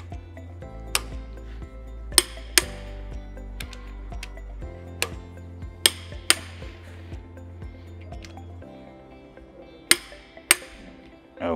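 Cylinder head bolts being tightened in sequence with a wrench: sharp metallic clicks and knocks land irregularly over a steady low hum, close and fairly loud, with no talking.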